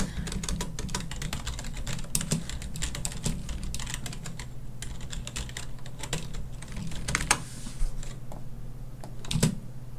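Rapid computer keyboard presses and clicks during editing work in After Effects, dense and irregular with a few harder strikes, close and clear over a low background hum; no one speaks.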